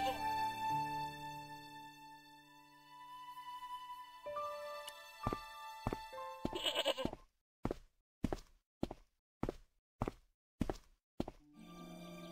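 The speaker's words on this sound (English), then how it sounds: "So the ghost of Lochmarne is no more than a fierce billy goat" A fierce billy goat bleats in the Broken Sword game, a short wavering cry over ambient music, followed by a series of evenly spaced heavy thuds.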